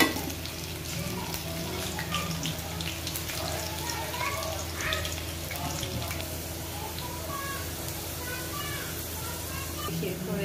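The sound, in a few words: fenugreek, mustard and cumin seeds sizzling in hot frying oil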